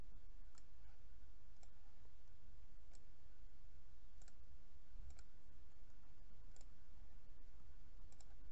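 Computer mouse clicks while starting a virtual machine in VirtualBox, faint, sharp single clicks spaced roughly a second apart over quiet background hiss.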